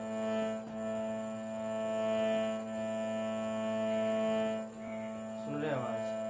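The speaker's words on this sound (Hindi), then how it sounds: "एक देखिए ये स्वर है, सुने झरझर की आवाज़ आ रही है।" A harmonium note with a faulty reed gives a steady, sustained tone with a rough, rattling buzz. A few brief breaks and shifts come in the middle, then a short burst of other notes near the end.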